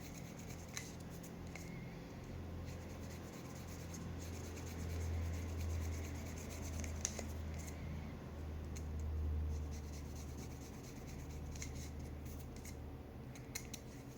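Thin membranes are peeled off a piece of cane to make a zurna reed, giving quiet, close rubbing and scraping with a few small clicks, steady throughout.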